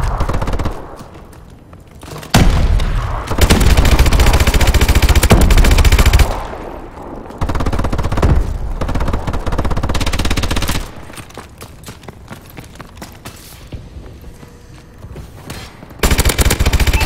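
Loud bursts of automatic gunfire from Call of Duty: Advanced Warfare rattle in long sustained volleys, broken by short pauses and quieter stretches, with no voices over them.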